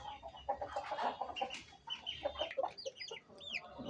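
An Aseel rooster clucks and calls repeatedly up close, with some higher chirps toward the end; fairly quiet overall.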